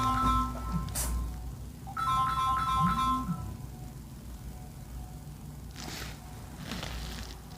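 A mobile phone ringtone chimes in short melodic bursts, moderately loud, repeating a few times over a quiet room background before fading away.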